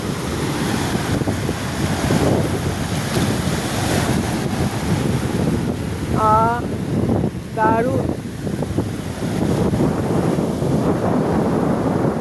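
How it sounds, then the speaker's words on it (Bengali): Sea waves breaking on Parikhi beach in Odisha, a loud continuous wash of surf with wind buffeting, and a voice exclaiming briefly partway through. "বেশ বড় এখন ঢেউ।"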